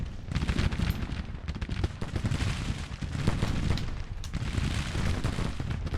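Dense, continuous musket volleys from mixed musket and rifle-musket infantry units in the Grand Tactician: The Civil War strategy game, overlapping cracks and rumbling gunfire filling the whole stretch at steady loudness with no voices.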